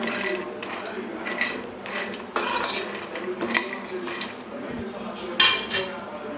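Makhana (fox nuts, lotus seeds) being stirred and fried in a pan, giving steady close scraping and light clinks of a spoon against the pan, with occasional louder knocks, no talking.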